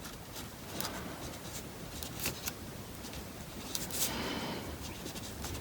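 A pen scratches faint strokes as letters are written on a folded paper origami shirt, soft and intermittent over a hissy background, close but quiet, no talking.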